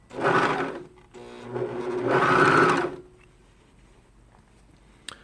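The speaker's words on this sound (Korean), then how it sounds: "이 상태에서 오버록을 시작을 해줍니다" An overlock serger stitches a baby T-shirt seam in two steady whirring runs, close and loud, then stops, leaving quiet room tone and a small click.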